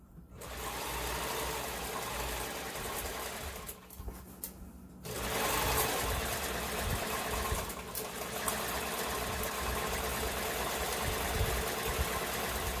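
A sewing machine runs steadily while winding a bobbin as it sews, a continuous mechanical whir with a short pause near the start before it picks up again at an even pace.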